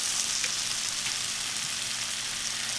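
Flour cooking in butter and oil in a pan, a steady close sizzle of frying that stays even throughout with no talking.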